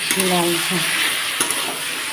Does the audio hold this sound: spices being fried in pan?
yes